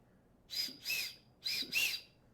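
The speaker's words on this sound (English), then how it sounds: "we have a signal whistle, again, to provide you another way of signaling for help. And let me give it a test here." A Coghlan's survival kit signal whistle blown in two pairs of shrill, piercing blasts with short gaps between them, close and loud.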